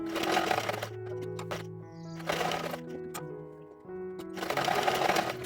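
A sewing machine runs a stay stitch along the neckline of a kurti cut from a saree, in three loud close bursts of rapid rhythmic stitching separated by brief pauses and small handling clicks.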